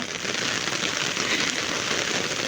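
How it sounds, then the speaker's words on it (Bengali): Heavy morning rain hisses steadily and densely on a street with pooling water, a loud continuous wash of drops with no pauses. "এত জোরে বৃষ্টি সকালবেলা"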